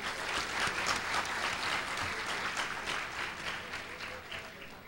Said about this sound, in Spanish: le ofrezcamos un fuerte aplauso a estas 4